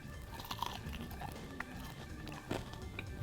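Someone bites into and chews a crunchy lemon pepper chicken wing, giving a few close, faint crunches and moist chewing sounds spread across a few seconds.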